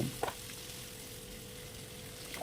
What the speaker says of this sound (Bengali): এবার ভালোভাবে ডিমটাকে নেড়ে নেড়ে এর মধ্যে কষে নেব